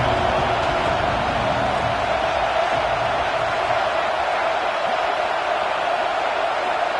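Video game football stadium crowd during a playoff game near the red zone: a dense, steady roar of cheering fills the whole stretch, loud and constant without clear peaks.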